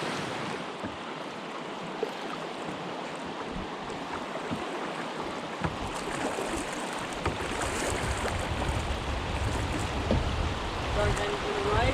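Canoe on the Brightsand-Kopka River heading into a rapid, with continuous rushing, churning whitewater and wind noise filling the scene, steady and loud, building slightly toward the end.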